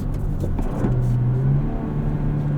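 A 2024 Toyota Tacoma with a 6-speed manual drives along while its engine revs, a low, steady drone that rises in pitch as the revs climb, heard close from inside the cab with no speech.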